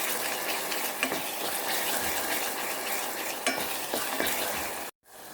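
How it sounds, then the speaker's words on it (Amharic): Onions sizzle steadily in a pan with pounded ginger and garlic while being cooked for an Ethiopian stew, a dense continuous frying hiss with occasional stirring clinks, cut off abruptly near the end. "እና እዚህ ጋር ሽንኩርታችን እየበሰለ ነው።"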